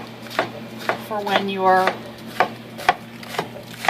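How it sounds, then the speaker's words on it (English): A knife chops gyoza ingredients on a cutting board in sharp, separate strikes spread across the moment, near and fairly loud, with a person talking over part of it. "He is being my extra set of hands while I sit here and chop things."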